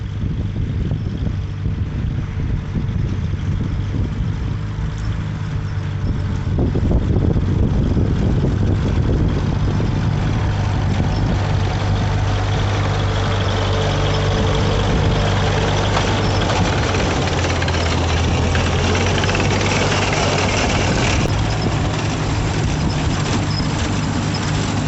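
A farm tractor engine idles steadily at close range, a low continuous rumble with a mild rise in intensity partway through and no talking.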